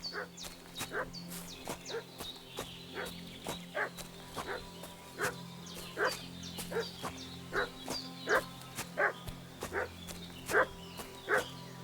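A dog barks repeatedly in short, evenly spaced yelps in the video game Kingdom Come: Deliverance II, against a quiet synthetic background hum, moderately loud and unbroken by talk.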